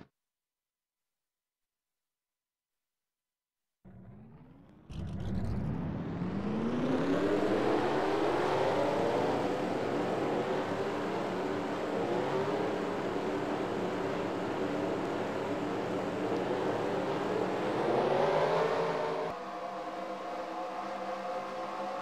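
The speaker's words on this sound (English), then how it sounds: "Drivers, start your engines!" Engines of a full field of 40 stock race cars fire up in a racing video game at Kansas, going from silence to a sudden swelling roar that holds as a steady, loud drone, then shifts to a rougher idle.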